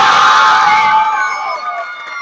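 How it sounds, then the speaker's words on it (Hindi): Crowd at a village rooster-fight and race event cheering and shouting for the winner, Dinesh, loud and close at first, then gradually tapering off with a lingering murmur. "एक बार जोरदार ताली हो जाए दिनेश भैया के"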